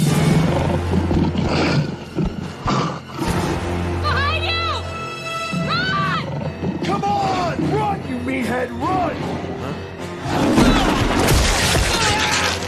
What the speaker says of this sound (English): What's that lion doing?